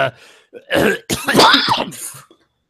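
A gravelly throat-clearing and rough cough, drawn out and phlegmy, close to the listener, delivered in a few raspy bursts.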